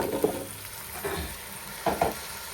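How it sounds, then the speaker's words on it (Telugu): Cut pumpkin pieces sizzle in a hot pan while being stirred, with a soft frying hiss and a few scraping stirs. It is fairly quiet and close, with no voices. "ఇప్పుడు ఇందులో మనం ముందుగా కట్ చేసి పెట్టుకున్న గుమ్మడి ముక్కలను వేసేద్దాం"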